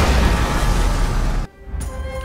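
A depot explodes in Sniper Elite 4, a loud, broad booming roar that rumbles for over a second before cutting off abruptly into a quieter tail of ringing game tones.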